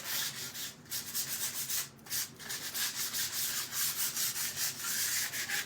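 Hand sanding of a wooden PRAY sign: quick, rhythmic back-and-forth rasping strokes, close and fairly quiet, with a few brief pauses between bursts.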